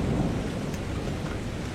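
Steady rain falling at night with a dull low rumble of thunder, a constant broadband wash close around the listener with no voices.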